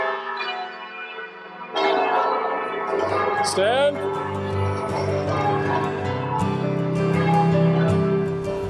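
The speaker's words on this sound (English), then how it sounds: "Change ringing is the process of hitting tuned bells in a controlled manner to affect the variation of their sounding order." Tuned church tower bells in Hingham ring out in change ringing, loud, overlapping strikes in sequence with a lingering hum, as a voice calls out once.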